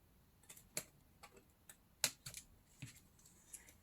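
Scissors snipping through a paper envelope for a vintage journal, a handful of quiet, sharp, irregular clicks and snips spaced across a few seconds with no one speaking.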